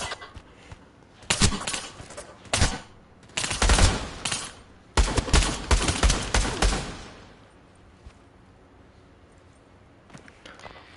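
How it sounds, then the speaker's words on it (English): Several loud bursts of rapid gunfire aimed at the listener, some short and some sustained, cluster in the first seven seconds before fading to a quiet background. "Why are y'all shooting at me"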